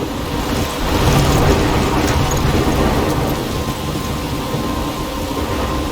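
Thunderstorm in the video game Life is Strange: a dense, steady wash of heavy rain with low rumbling that swells slightly in the first seconds, then holds even throughout, with no voices.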